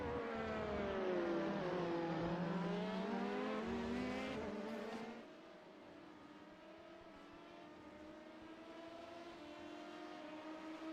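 Race cars lap Le Mans in a sim racing endurance event, engines whining and shifting pitch as they accelerate past, loud at first then settling to a quieter steady drone.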